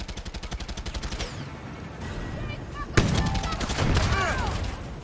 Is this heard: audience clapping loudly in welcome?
no